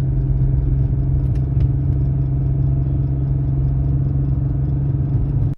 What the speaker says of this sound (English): I explained the clicking noise that I had on the car, and I'm going to put a clip of it right